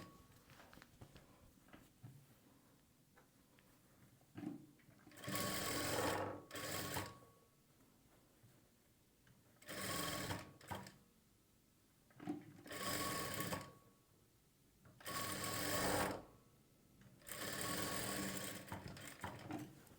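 A sewing machine runs in several short, rapid bursts separated by pauses, double-stitching as a sleeve is attached to a blouse at the shoulder joint; close and clear, with faint handling sounds between runs.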